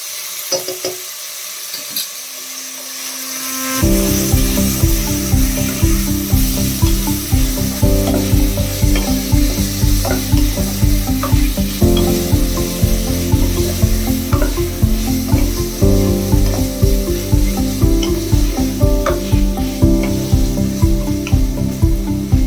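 Chicken stir-fries in a pan over medium flame for egg chicken chow mein with black pepper, giving a loud, steady sizzle with rhythmic stirring scrapes that starts abruptly after a few seconds of quiet.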